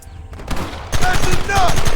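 Rapid bursts of gunfire in the Western video game Red Dead Redemption crack loudly and close, several shots overlapping with game sound effects and shouted voices.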